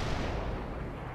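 Heavy artillery barrage of white phosphorus shells in the strategy game World in Conflict, a dense continuous rumble of booming impacts with no clear gaps, loud and sustained throughout.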